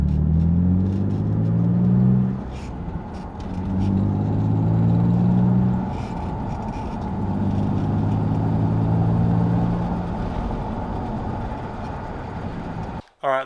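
An Infiniti G35 with a misinstalled brake plate makes an abnormal droning, tonal hum while driving, rising and falling in pulses over steady road noise as people talk inside the car.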